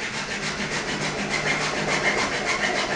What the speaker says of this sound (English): Hacksaw's a much better tool than the secateurs